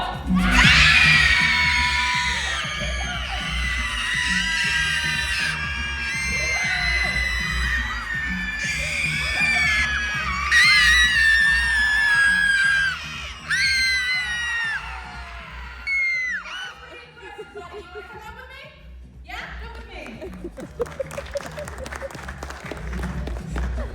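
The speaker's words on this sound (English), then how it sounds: "When I say go, you are going to scream as loud as possible" A room of children at a live science show at a museum in Oklahoma screams as loud as they can in a sustained, piercing crowd roar lasting around fifteen seconds, then trails off into scattered shouts and cheers.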